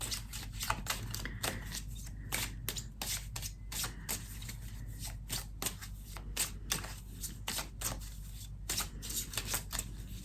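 A deck of journey cards being shuffled by hand, with repeated quick riffling bursts and soft flicks in an uneven rhythm, close and fairly quiet.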